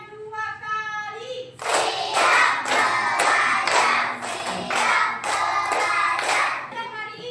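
Children in a classroom clap their hands in counted bursts, rhythmic groups of sharp claps repeating over several seconds, loud and close, with a teacher's voice leading between them.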